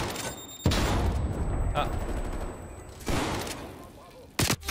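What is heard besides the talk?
single slug shots from a shotgun in video game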